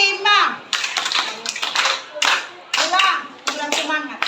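Schoolchildren in a classroom clap together in sharp grouped bursts of a rhythmic clap pattern, repeating several times at close range, with children's voices chanting and talking between and over the claps.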